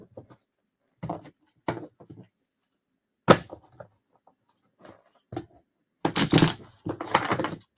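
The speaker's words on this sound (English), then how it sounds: "Give you guys a couple shuffles." A deck of tarot cards is shuffled in a quiet room, with short separate bursts of riffling and slapping at irregular intervals, ending in a longer, louder flurry of shuffling.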